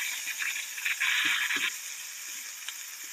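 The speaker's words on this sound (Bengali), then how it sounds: "আলুগুলো তেলের মধ্যে দিয়ে দিচ্ছি।" Potato pieces slide into mustard oil in a kadai, giving a short burst of soft sizzling and rattling that settles into a quieter, faint fry.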